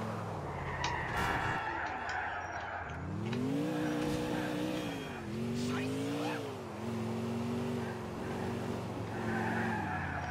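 Car engine revving and accelerating in GTA IV, a droning tone that climbs, dips and climbs again through gear changes, with tire squeal and road noise over a steady background.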